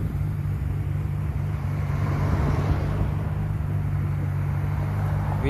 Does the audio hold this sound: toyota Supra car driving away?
yes